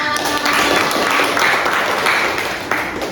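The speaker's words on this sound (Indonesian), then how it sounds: "tepuk tangan dulu teman-teman" Applause from a group of students in a classroom during a micro-teaching session, a steady dense patter of clapping at moderate level throughout with a faint voice over it.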